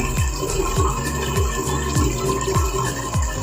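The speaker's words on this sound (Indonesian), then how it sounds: "ini dalam waktu singkat aja bisa mengisi air" High-flow water tap filling a tub: a loud, steady gushing rush of water with a repeating low pulsing surge every half second or so, no voices.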